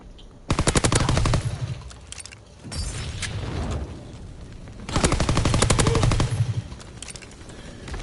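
A PPSh submachine gun fires in Call of Duty: two long, loud bursts of rapid automatic fire separated by a quieter stretch with lighter shots and mechanical clatter.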